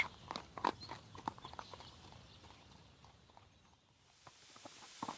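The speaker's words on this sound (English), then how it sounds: "Lidenbrock and Axel are on horses." Several horses walking with luggage on the way to an old volcano, hooves clip-clopping in a loose, uneven rhythm at moderate distance, fairly faint.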